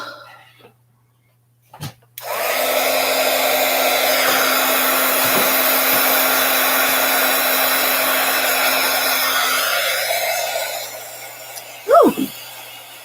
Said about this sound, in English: Cook him with a heat gun.